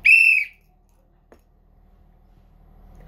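A single bright whistled note with rising harmonics, loud and close, lasting about half a second, then near silence with a faint tick.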